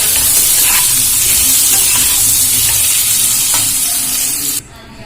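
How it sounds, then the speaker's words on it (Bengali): Loud, steady sizzle of papaya frying in hot oil until browned, continuous and close, with faint stirring scrapes, then it drops away abruptly near the end. "আমি পেঁপেটা ভালো করে লাল লাল করে ভেজে নেব"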